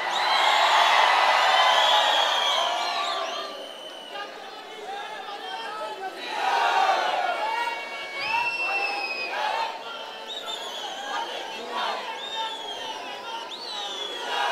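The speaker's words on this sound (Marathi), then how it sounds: "प्रचंड जल्लोष जोश आहे।" A large crowd at a political rally in Maharashtra roars with loud, sustained cheering, whoops and shouting. The din swells and ebbs across the stretch, with scattered high cries rising above it.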